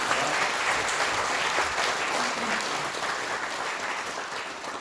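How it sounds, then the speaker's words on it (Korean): Steady applause from a seated crowd at a Buddhist scholarship ceremony at Hwaeomsa temple on Jirisan, sustained and even throughout, moderately distant, with no talk over it. "큰 박수 부탁드립니다"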